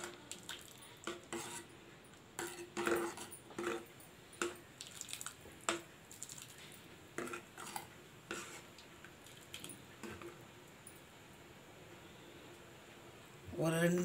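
A spoon stirs vegetable soup thickened with cornflour in a pot, making irregular clinks and scrapes against the metal over a faint bubbling background.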